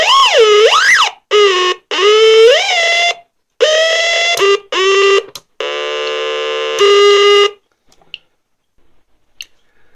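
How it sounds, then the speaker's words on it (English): Homemade oscillator device blaring loud electronic tones: sweeping wobbling whoops, short bursts and a steady buzzing drone in a rapid sequence, then falling silent apart from faint clicks. "It contains an oscillator. I can press it and it will make all kind of noises,"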